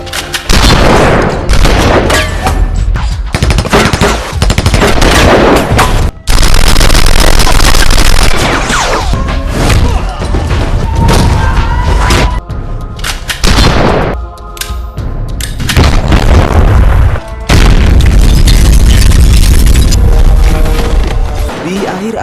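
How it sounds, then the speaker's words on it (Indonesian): Gunfire and explosions in a police shootout: dense, very loud bursts of shots and booms crackling almost without pause, with brief gaps between volleys. "terjadilah baku tembak di tempat tersebut"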